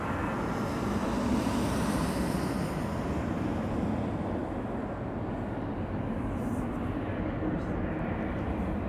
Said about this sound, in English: Another E2 Embraer.